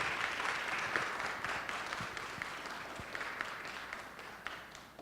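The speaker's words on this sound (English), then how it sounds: "let's give a round of applause for everybody who participated" A town hall audience applauds the participants with sustained, even clapping from a moderate distance, a few sharper individual claps standing out over five seconds before it begins to taper.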